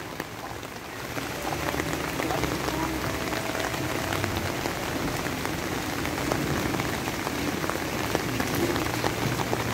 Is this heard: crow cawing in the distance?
no